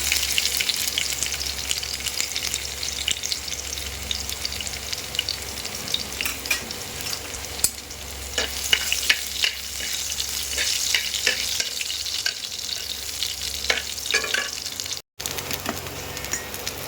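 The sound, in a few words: dried chilli, nigella seeds and garlic sizzling in oil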